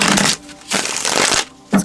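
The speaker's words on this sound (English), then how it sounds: "Cool is that I can shuffle these nicely because it's the full deck" A full deck of tarot cards is shuffled by hand in two bursts of riffling and slapping, loud and close, separated by a short pause and ending in a sharp tap.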